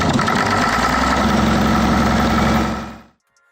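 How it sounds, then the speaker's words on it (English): A big engine churns and rumbles loudly and steadily, throbbing with vibration, then abruptly cuts out into near silence. "a purring sound that rises and falls as the engine tries to come to life"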